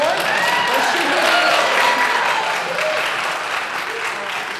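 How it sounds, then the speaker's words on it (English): Audience at a mayoral forum breaking into strong, sustained applause, dense clapping that fills the room and slowly tapers off. "Please hold your applause till the end."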